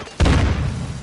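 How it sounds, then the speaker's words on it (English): Mortar strike explosion in Call of Duty: Modern Warfare II, a single heavy boom that hits suddenly and then rumbles away in a long, fading low tail. "Friendly mortar strike on the way."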